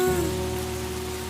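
Heavy rain pours down in a steady, dense wash through a dramatic film scene, with a sustained tonal hum layered underneath and no voices.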